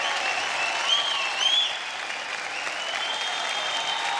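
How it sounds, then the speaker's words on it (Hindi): Enthusiastic audience applause following a Rajasthani folk dance duo's performance on a televised dance competition stage, a steady dense wash of clapping and crowd noise heard alone throughout. "जोरदार तालियां हो जाए हंसवी एंड अनुराधा के लिए।"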